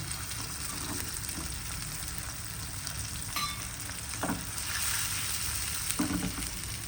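Tomatoes frying in a pan with garlic being added, a steady close hiss and sizzle throughout, with a few stirring scrapes and brief crackly bursts rising midway and near the end.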